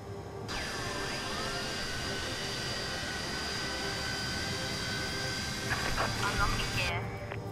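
Jet engine of a Fokker F28 airliner spooling up in a flight simulator, a steady loud whine with rising tones and a broad rushing roar held throughout, nearby and continuous.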